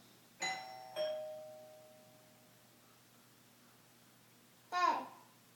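A child rings a home doorbell: two quick chimes close together, then a third ring a few seconds later, each ringing out and fading in a quiet room.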